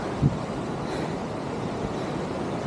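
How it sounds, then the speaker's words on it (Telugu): Steady, broadband rushing of falling water at Nambi waterfalls in Chhattisgarh fills the scene, a constant roar heard alone with no voices. "this is నింబల్ water falls"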